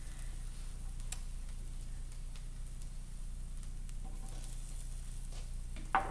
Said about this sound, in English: Just kind of stir it a little bit until it starts to sizzle